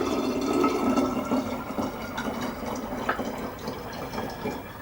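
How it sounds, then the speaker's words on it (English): Liquid yeast solution poured into a bottle already holding some apple juice while making homemade cider, a steady close splashing fill with small drips and gurgles. "I'm going to pour our solution in there as well."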